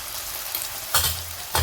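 Tomato and garlic sauté with a loud, close, steady sizzle in a hot pan, with two sharper bursts of frying as turmeric goes in and the mixture is stirred.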